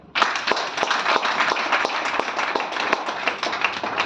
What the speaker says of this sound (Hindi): सभी के लिए एक जोरदार ताली